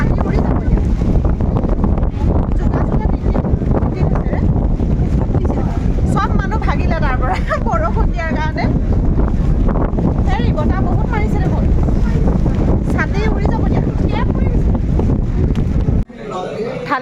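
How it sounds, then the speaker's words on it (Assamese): Wind blowing hard after rain in Darjeeling, a loud continuous roar buffeting the microphone, with people talking underneath. "এতিয়া বতাহ মাৰিছে"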